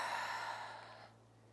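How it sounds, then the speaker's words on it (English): A long, soft breath exhaled during a flowing yoga sequence, close and breathy, fading away over about a second with no talking. "Exhale."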